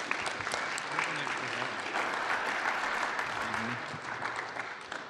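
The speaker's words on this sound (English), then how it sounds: "Round of applause for Nicholas," An audience at a morning community gathering gives a round of applause, steady dense clapping with a few faint voices mixed in underneath.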